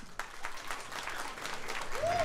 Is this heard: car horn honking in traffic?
no